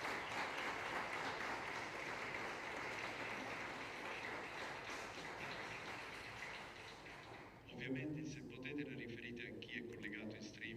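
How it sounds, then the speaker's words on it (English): Sustained, dense audience applause fills a hall at the Venice Biennale Cinema presentation for about seven and a half seconds, then cuts off as a voice begins speaking over quieter room sound. "greet him with a round of applause,"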